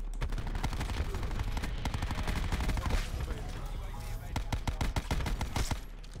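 Rapid, loud bursts of submachine gun fire in a first-person shooter, dense tapping shots stacked back to back with sharp cracks running through the whole stretch.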